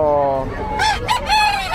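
A fighting rooster, a nine-month-old gamecock for sale at the Bocaue pet market, lets out a loud close crow with clucking, while a person talks briefly under it.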